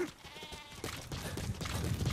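A goat bleats in the video game Metal Gear Solid V: The Phantom Pain, a wavering cry heard once over steady game ambience and hoofbeat-like thumps.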